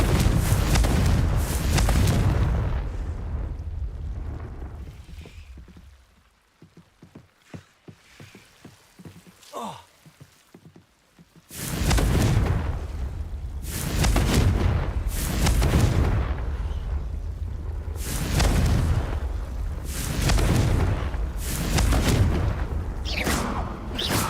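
Repeated Confringo blasting-spell explosions in Hogwarts Legacy, loud booming bursts in quick succession, with a quieter stretch of small crackles in the middle before the heavy blasts resume.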